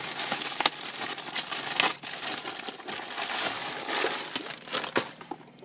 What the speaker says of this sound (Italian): vado a scartare e togliere l'involucro per poter liberare l'aleta